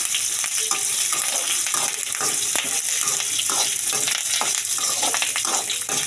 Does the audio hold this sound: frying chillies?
yes